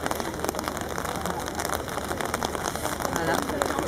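Steady rain patters on the ground at an outdoor horse jumping paddock during a show-jumping event, a constant even hiss of drops with faint voices and activity in the background.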